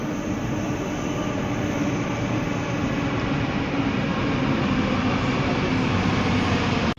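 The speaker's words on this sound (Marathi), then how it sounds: "मेट्रो आलेले आहे" Metro train pulling into a platform, a steady loud rushing rumble of wheels and motors that holds evenly, then cuts off abruptly at the end.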